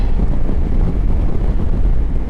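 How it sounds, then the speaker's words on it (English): Wind blast roaring over a motorcycle helmet at motorway speed on a 2024 Honda AT DCT ES, windscreen at its highest position. The buffeting rumble is loud, steady and continuous, with no voice over it. "the wind blast is actually on my helmet"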